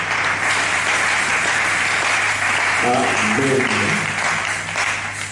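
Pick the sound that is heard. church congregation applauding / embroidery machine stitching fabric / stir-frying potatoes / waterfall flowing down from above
church congregation applauding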